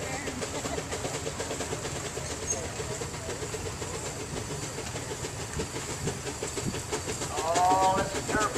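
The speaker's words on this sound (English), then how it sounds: "This is the Ken Donovan steam engine." A full-size twin-cylinder steam traction engine chuffs along a parade route in a steady, even rhythm of exhaust beats with a background hiss, at moderate distance, while people's voices are faintly audible.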